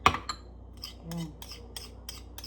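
A spoon clinks and scrapes lightly in a bowl while lemon juice dip for chicken is stirred, giving a few soft, sparse taps and rubs at close range.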